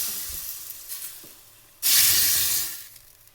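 Tempering for dill leaf soup: a faint background hiss, then a sudden loud burst of sizzling about halfway through as hot oil hits, fading gradually over the next second.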